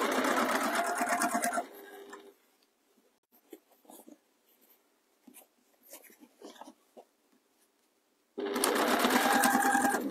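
A sewing machine stitches the seam of a pie crust cushion in two close, steady whirring runs, one at the start and one at the end. Quiet handling noises fill the gap between them.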